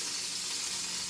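Steaks sizzle steadily in a hot pan after basting with rosemary, a constant close hiss of frying fat with no talking over it.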